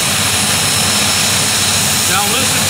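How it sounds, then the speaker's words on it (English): A turbine-powered pulling tractor at a tractor pull in Franklin, Kentucky, roaring loudly and steadily as it launches off the line, with a broad, constant jet-like rush filling the clip. "Now listen for the roar coming up of the turbine."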